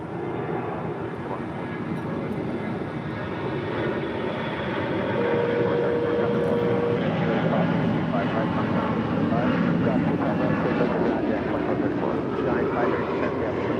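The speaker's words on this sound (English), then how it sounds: "That was Delta 799 departing to Minneapolis on an A321" A Delta Airbus A321 jet departs LAX with a broad, steady engine roar that swells slightly partway through and holds loud to the end.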